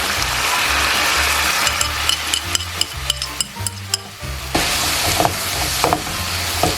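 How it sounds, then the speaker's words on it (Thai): Thai ingredients stir-fried in a hot pan: a loud, steady sizzle with a run of quick metallic scrapes and clinks from the utensil in the middle, then the sizzle carries on alone. No talking. "ผัดจนกว่ามันจะเหือดนะคะเราจะไม่ให้มันสุกมาก"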